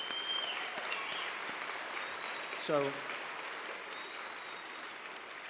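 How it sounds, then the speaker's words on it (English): An audience at the Tech 50 awards applauds the finalists, a steady wash of clapping at moderate level, with a brief spoken word partway through. "Let's give them all a round of applause."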